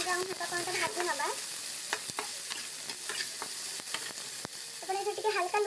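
Onions fry in a pan for an egg curry, giving a continuous sizzle broken by sharp clicks and scrapes of stirring, close and fairly loud throughout.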